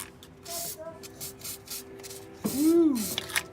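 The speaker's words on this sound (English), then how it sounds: "you can spray it up with WD-40 because it just makes it come out a lot easier" WD-40 is sprayed onto a front strut of a Ford FG Falcon in several short hissing bursts, broken by squeaks and scraping as the part is handled close up.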